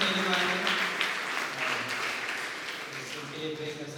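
Congregation at a Hindi Sunday evening church service clapping for new students, a dense steady wash of applause lasting several seconds, with voices mixed in.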